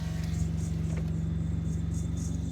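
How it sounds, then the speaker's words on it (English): An idling car engine hums steadily while a faint, repeating high chirp from the alternator pulses over it about every half second. "we're gonna change an alternator because it's chirping."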